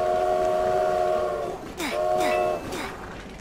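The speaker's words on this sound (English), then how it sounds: "Yeah, there's a train coming." A video game train horn blares in sustained tones, then breaks into short repeated blasts with a rising rumble as the train nears, loud and close, while a voice talks over it.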